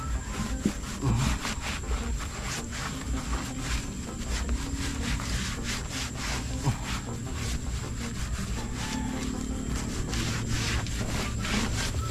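Continuous scrubbing on the wood of a small hut, a steady rough rubbing with a brisk rhythm, close and loud over the whole stretch.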